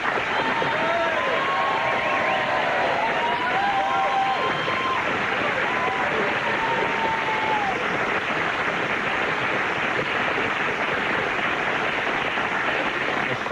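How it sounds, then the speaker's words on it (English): A studio audience claps loudly and continuously, a dense and even wash of applause with a few whoops and cheers rising over it early on. "Some more applause,"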